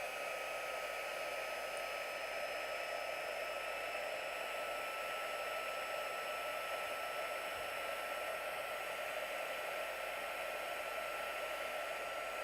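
A hair dryer runs steadily and continuously at close range to dry wet paint and coloured pencil work, a constant even whoosh with no breaks.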